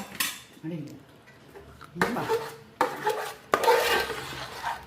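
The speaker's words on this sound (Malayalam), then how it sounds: "ഞാൻ ഇളക്കാം നേരം വഴറ്റിയെടുക്കണം ഒത്തിരി നേരം" Food being stirred and sautéed in a cooking pan, with a utensil scraping and clinking against the metal in uneven bursts, loudest near the end, with faint voices briefly in the background.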